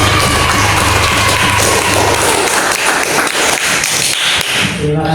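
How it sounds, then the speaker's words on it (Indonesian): A classroom group gets applause: dense, steady clapping from many hands, loud and close, filling the room without a break until it starts to thin at the very end. "Berikan tepuk tangan kepada kelompok."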